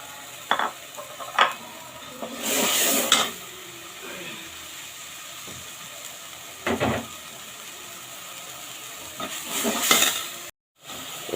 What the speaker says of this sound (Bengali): এখন আমি এর ভিতরে বেগুনগুলো দিয়ে দিব